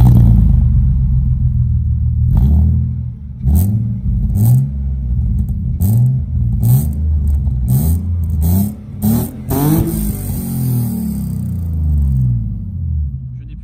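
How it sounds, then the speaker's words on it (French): A BMW drift car engine fires up nearby and revs hard again and again in sharp bursts, its deep rumble rising and falling between throttle blips. "on va écouter le petit bruit au démarrage"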